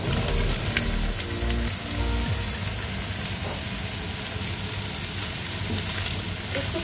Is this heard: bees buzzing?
no